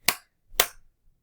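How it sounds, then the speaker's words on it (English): Two sharp, close hand claps about half a second apart, clapped along to the children's song 'If You're Happy and You Know It' during a phonics lesson, each clap standing alone with quiet in between. "clap your hands"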